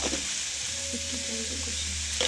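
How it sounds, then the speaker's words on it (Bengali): Onion, ginger and garlic frying in a pan for a chicken dish: a continuous close sizzle with scraping stirring sounds and a few clinks of the utensil. "এখানে পেঁয়াজ আদা রসুনটাকে খুব ভালোভাবে ভেজে নিয়েছি"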